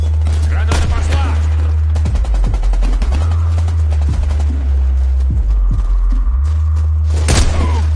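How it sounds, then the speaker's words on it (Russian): A grenade thrown amid gunfire in the shooter game Warface: rapid, dense bursts of shots and sharp booming cracks, loud and continuous, with in-game voice callouts. "Граната пошла!"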